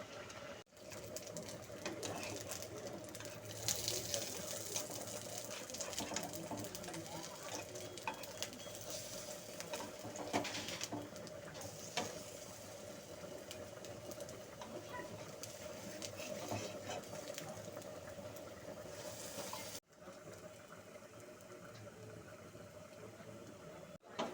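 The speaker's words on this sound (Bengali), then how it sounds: "ব্যাটার মাখানো ফুলগুলো আমি কড়াইতে দিয়ে হালকা আঁচে ভেজে নিচ্ছি" Batter-coated pumpkin flowers fry over a low flame in a karai, giving a steady, close, moderately quiet sizzle that crackles on for over twenty seconds, with a brief dip near the end.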